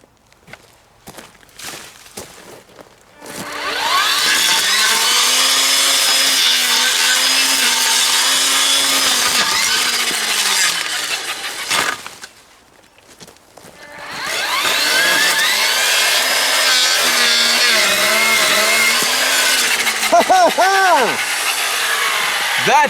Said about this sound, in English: I just cut through this over 1 inch branch, which I struggled to do before